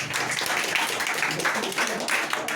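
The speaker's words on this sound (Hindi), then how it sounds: "तालियां" Village children at a general knowledge quiz competition in Prayagraj clap together, a dense, lively burst of hand claps that holds steady for a couple of seconds.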